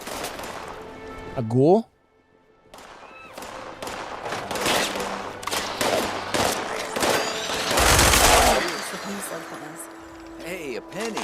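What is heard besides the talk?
gunfire in a video game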